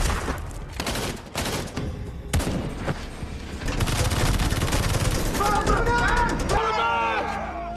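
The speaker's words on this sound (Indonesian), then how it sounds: "Dutch, take the shot" Rapid gunfire from an action film shootout at a rebel-held cave crackles in dense bursts and sustained volleys, with a loud, continuous battle din and high whistling or ricochet-like sounds building toward the end.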